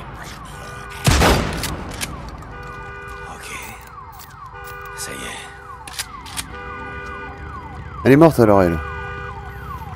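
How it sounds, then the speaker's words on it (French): Alarm siren blaring in the Days Gone video game, a steady wailing tone sustained across the scene with loud bursts and game noises, while someone speaks briefly over it. "Saleté d'alarme."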